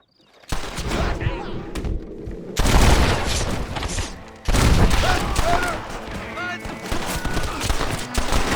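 Gunfire crackles through a Red Dead Redemption shootout, with loud overlapping shots and blasts in dense, continuous bursts and a brief lull mid-way, under shouted voices.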